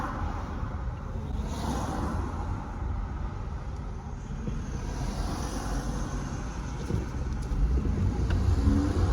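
A classic Mercedes car engine droning steadily while driving along, with road and wind noise filling the background at a constant level.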